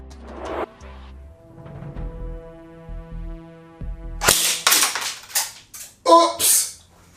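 A Snow Wolf M41A airsoft pulse rifle, powered by a 9.6-volt stick battery, fires a rapid series of sharp snapping bursts after some quiet mechanical handling, fairly close.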